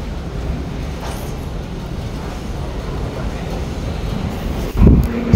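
Steady low rumble and road-like noise fill the inside of a moving train in Seoul, with a brief louder clunk near the end; no one speaks.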